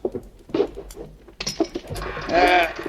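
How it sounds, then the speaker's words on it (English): A squeaky chair in need of oil creaks as a man settles into it, a radio horror drama sound effect, with a few high, grating squeals under nearby talk. "This chair could use a little oil."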